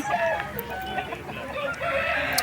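A fifteen-month-old rooster at a poultry market crows loudly and close by, a drawn-out call with some clucking, heard over a busy background.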